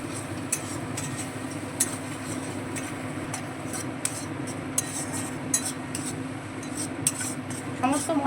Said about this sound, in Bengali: এবারে ক্রমাগত কাজু এবং পোস্ত বাটাটা নাড়তে থাকবো নইলে কাজুটা কড়াতে লেগে যাবে